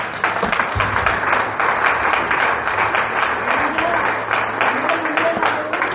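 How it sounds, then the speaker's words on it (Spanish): Congregation applause in a church service, rhythmic clapping from many hands mixed with voices and cheering, with people talking and calling out over it throughout. "Dale un fuerte aplauso a Jesús."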